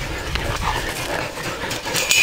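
A dog whimpers and pants close by, with a steady, breathy sound over about two seconds, among female dogs with a litter of newborn puppies.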